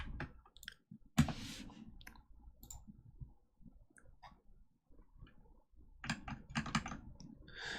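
Code typed on a computer keyboard, close and crisp, in quick bursts of key clicks with brief pauses, a loud clack near the start and a fast flurry toward the end.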